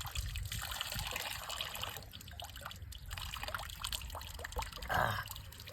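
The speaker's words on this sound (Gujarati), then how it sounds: "પાણી પીવા માટે તમારે પહેલાં પમ્પિંગ કરવું પડે છે અને પછી પાણી આવે" Water from a hand pump near Ambaji on the Danta road, a steady splashing trickle and pour that keeps on throughout, with a brief stronger gush toward the end over low outdoor rumble.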